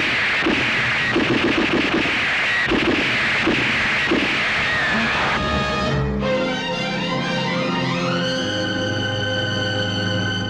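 Rapid bursts of gunfire crackle through an action scene in the Telugu film Ravana Brahma. The shots pulse in a loud, dense volley for several seconds before a sustained, swelling dramatic music chord takes over.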